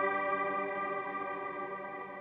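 A sustained synth note heavily washed in reverb and chorus, a dense shimmering harmonic tone holding steady and fading slightly, alone without voices.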